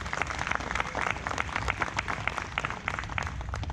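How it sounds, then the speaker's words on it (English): Audience at a Montana stand down event giving a veteran another round of applause, dense steady clapping close and moderately loud for several seconds with no talking. "can we give her another round of applause?"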